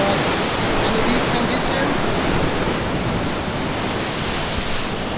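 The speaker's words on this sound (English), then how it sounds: "now you know what I mean by the ocean is too rough" Rough ocean waves crash below a cliff platform on Nusa Ceningan, a continuous loud roaring wash of surf and spray that fills the whole scene with no break.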